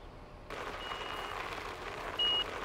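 Dump truck reversing in the construction game Bau Simulator, its backup alarm sounding a steady repeating beep close by over a continuous engine rumble, with a brighter, louder beep burst near the end.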